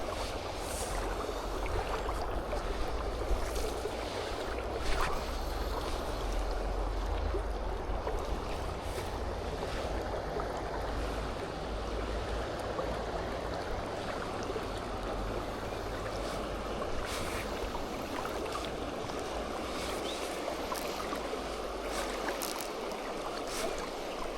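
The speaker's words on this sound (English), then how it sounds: "Fish through the fast bubbly water." Fast, bubbly water of the River Tweed rushes steadily and close by, a dense continuous churn with no pauses and no voices over it.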